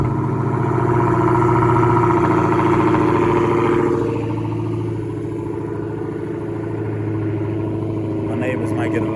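A 2016 Dodge Challenger Hellcat with its mid mufflers removed and resonators kept gives a loud, deep exhaust rumble, fuller for the first four seconds before settling into a steadier, quieter idle-like drone.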